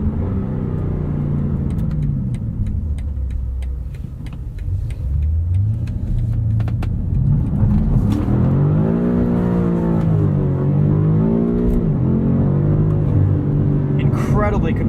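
A 2022 BMW M5 CS engine revs and accelerates hard, its note climbing in pitch in repeated surges over a steady road rumble, heard loud and close from inside the car.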